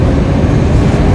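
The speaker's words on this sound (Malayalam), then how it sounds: "ഇപ്പം നിങ്ങൾക്ക് തോന്നും മെട്രോൻ്റെ സൗണ്ട് കേൾക്കുന്നുണ്ടല്ലോ, ഇത് മെട്രോ സ്റ്റേഷനാണോ?" Loud low rumble of a Stockholm metro train in an underground station, a dense steady roar of wheels and motors close by that holds evenly through the short stretch with no voices.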